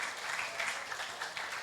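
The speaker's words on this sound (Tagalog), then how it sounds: "Pwede bang bigyan natin ng malakas na palakpak si Lord?" A church congregation applauds, a dense, continuous patter of many hands clapping at moderate distance, steady and without a break for the short stretch.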